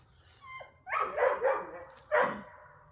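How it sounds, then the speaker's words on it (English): A female dog gives a few close, high whimpering yips followed by two short barks during supervised play with other dogs. "Zuri is a female dog"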